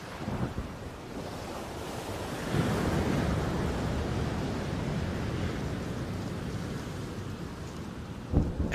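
A thunderstorm rolls in over the sea off Christmas Island, a steady roar of wind and surging waves with deep rumbling beneath, swelling partway through and ending with a sharper gust.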